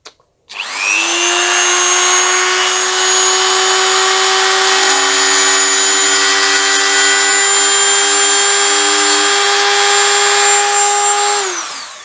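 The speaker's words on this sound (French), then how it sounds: "j'ai passé une petite mèche diamant partout dans la fêlure, dans la cassure" A small diamond drill bit cuts along a crack in a ceramic dish, a loud continuous high whine with steady tonal layers that starts suddenly, holds for about eleven seconds and then stops.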